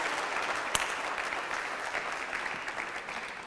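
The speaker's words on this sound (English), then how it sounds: "a round of applause for Mr. Sklar" A high school audience at a senior project presentation claps for a speaker, a fairly faint but continuous patter of many hands with one sharp nearby clap standing out.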